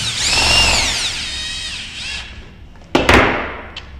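A power drill whirs steadily as it drives a screw into a lockset trim on a door, then stops, followed by a couple of sharp thumps and clicks.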